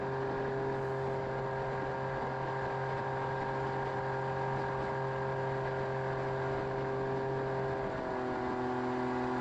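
A Solar 470 SJT jet boat motor runs steadily at a constant pitch, a continuous droning hum that stays close and even throughout with no voices.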